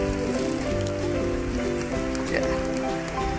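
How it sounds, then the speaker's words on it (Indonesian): Light drizzle falling outdoors in the Dieng highlands near Wonosobo, a steady soft patter spread evenly across the scene with no talk heard. "suasananya di sini hujan gerimis"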